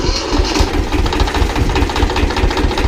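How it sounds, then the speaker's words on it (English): An old, cheap Kubota homesteading tractor engine runs close by, a loud steady diesel chugging with a rapid, slightly knocking rhythm throughout and no voices. "And let's try and drive this tractor."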